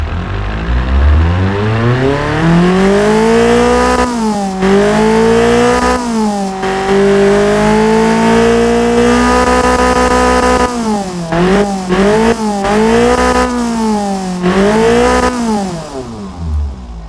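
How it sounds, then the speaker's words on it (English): A Toyota 22R-E engine revs hard in the Automation car-building game after an internals and camshaft upgrade. The engine note is loud and continuous, sweeping up and down through repeated rising and falling revs, alone with no talk. "Wow, this engine is a screamer now, which is really awesome."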